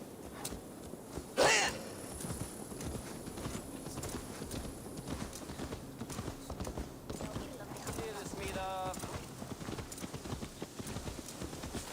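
Horse hooves clip-clop steadily at a walking pace in Assassin's Creed Valhalla, a soft rhythmic patter running under game ambience and character voices, with a brief louder hit near the start.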